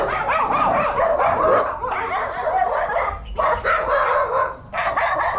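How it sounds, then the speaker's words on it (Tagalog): A dog in a rural farm-like area barks repeatedly at a person nearby, loud and close, in bursts of agitated barks and yips with short pauses between. "Tumatahol yung aso sa akin."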